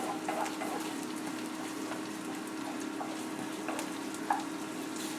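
Chicken and sauce sizzle in a pan with tomato paste while being stirred, a soft, steady crackling hiss heard close by, with an occasional faint clink.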